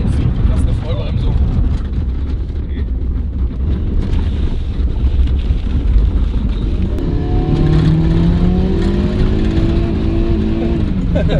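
A car with dry ice in its tyres and engine roars under hard acceleration, then the engine note climbs and falls as it brakes sharply, heard from inside with heavy wind buffeting and people talking throughout.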